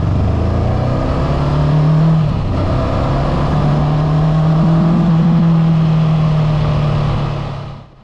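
A Honda CB500X motorcycle's liquid-cooled four-stroke engine runs loud and close, holding a steady drone that swells as revs rise, dips briefly, then climbs and sustains before cutting off abruptly at the end.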